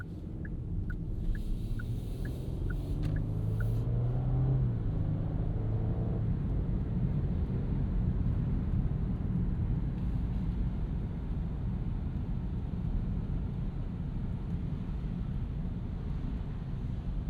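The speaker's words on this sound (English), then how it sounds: "Some puddle ASMR for you guys." 2026 Genesis G80 3.5T twin-turbo V6 sedan rolling through rain puddles at night, heard from inside the cabin as a steady low road rumble with a brief watery swish early on and no talking.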